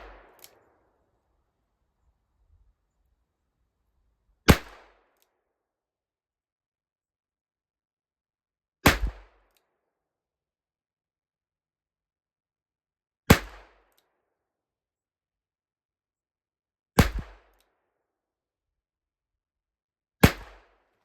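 Six sharp, loud cracks from a Rossi M518 .22LR revolver fired from a bench rest outdoors in the cold, spaced roughly four seconds apart, each a crisp report with a short decay into silence.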